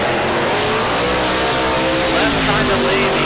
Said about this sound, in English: He's got nitrous. That slick looking 63 split window Corvette.